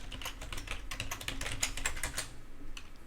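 Rapid typing on a computer keyboard, a close, steady patter of key clicks running throughout with a few brief pauses, no voices.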